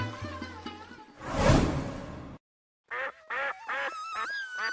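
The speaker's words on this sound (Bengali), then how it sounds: "তোর ঘরে তো এখন হাঁসের রাজ্য।" Ducks in a cartoon, a whooshing swish followed by a short burst of several quick, nasal, voice-like quacks, bright and close.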